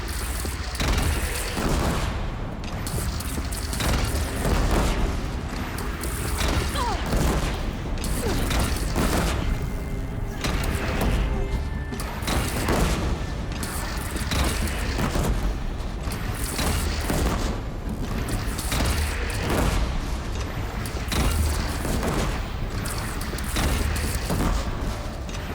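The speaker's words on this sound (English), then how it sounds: "They only have one cannon!" Deep booms and cannon blasts repeat through a loud battle in the video game Horizon Zero Dawn, layered with clattering mechanisms and a dense, continuous roar of combat.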